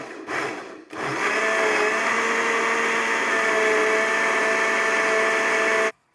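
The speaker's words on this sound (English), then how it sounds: "Now you want to pulse this a couple of times before you just start mixing." A blender whirs on ingredients for a Texas-style BBQ sauce: a short pulse, a brief stop, then a loud, steady motor roar that runs several seconds before cutting off abruptly.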